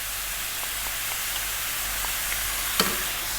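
Vegetables fry in a hot pan, giving a steady, loud hiss of sizzling as moisture cooks off. One brief tap is heard near the end, and no one talks.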